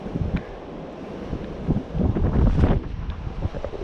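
Strong wind blows steadily at Coffee Creek during fishing, buffeting the microphone with a low, rumbling roar that swells in gusts and carries no speech.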